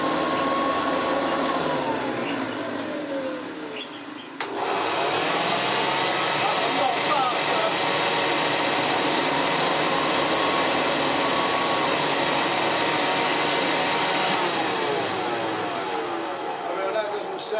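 A Hoover Convertible U4147 upright vacuum cleaner runs with a steady, loud motor whine and airflow roar, briefly dipping as it switches before resuming for a long sustained stretch, with a voice talking over it.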